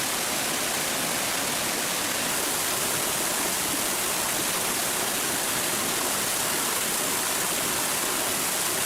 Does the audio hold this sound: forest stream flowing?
yes